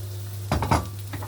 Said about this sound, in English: And into this you put your chopped onion.